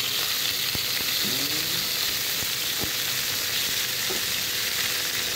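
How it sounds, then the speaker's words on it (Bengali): Taki fish frying in hot oil in a pan makes a loud, steady broadband sizzle, close by, with a few faint clicks and utensil touches over it and no speech. "এখন প্যানে আমি তেল দিয়ে দিচ্ছি, তেলটা গরম হয়ে গেছে, মাছগুলো দিয়ে দিলাম।"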